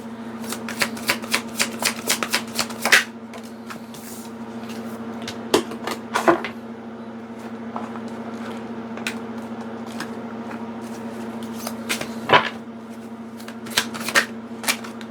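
A deck of tarot cards is shuffled by hand, with quick ruffling bursts and card slaps in irregular clusters over a steady low electrical hum, close and fairly clear, with no talking.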